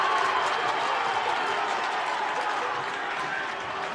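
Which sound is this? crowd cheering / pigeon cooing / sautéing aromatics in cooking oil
crowd cheering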